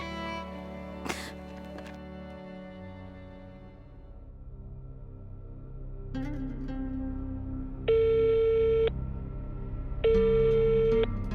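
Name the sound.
telephone call tone, unanswered phone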